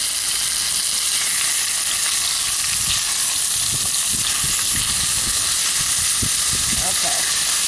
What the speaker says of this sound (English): We're going to go ahead and dump this beef in here.